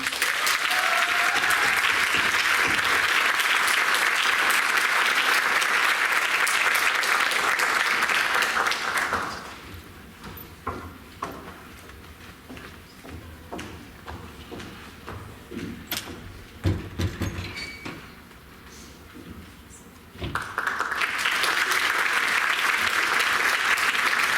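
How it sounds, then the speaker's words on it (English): Loud audience applause at a high school senior achievement ceremony, sustained for about nine seconds, then quieter shuffling and thumps, then another burst of full applause near the end. "Please help me congratulate with a round of applause, Samantha Cherney"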